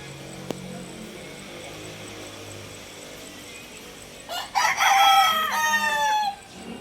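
Several young roosters, stags about six to seven months old, crow in a burst of overlapping calls near the end, after a stretch of quiet yard hum with a faint hint of distant crowing.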